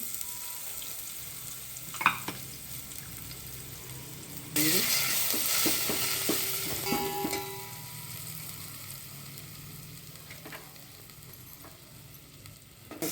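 Curry leaves, garlic, ginger, green chili and asafoetida hit hot oil for a traditional home-style Marathi kadhi, bursting into a loud spitting sizzle with sharp crackles and stirring scrapes that fade slowly over time.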